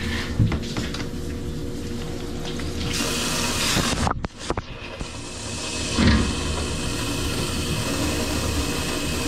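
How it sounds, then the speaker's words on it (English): Water runs steadily from a sink faucet, a full rushing stream with a brief dip partway through, then continuing strongly. "I'll turn this sink on as well."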